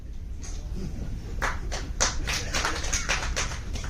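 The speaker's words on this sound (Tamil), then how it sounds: "இப்படி ஒருத்தர் 2 பேர் கைதட்டுறீங்கல்ல" A few scattered hand claps from one or two people in an audience, sparse, uneven taps that are fairly close and light, with no voices heard.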